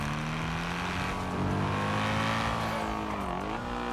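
A BMW engine in GTA 5 drones steadily and loudly with a sustained tonal hum, shifting pitch slightly as it revs near the end, with no talking over it.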